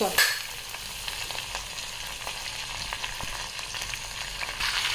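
Ginger garlic paste sizzles steadily in hot fat in a pan for restaurant-style daal makhani, a continuous close frying hiss with faint stirring scrapes throughout and no talking.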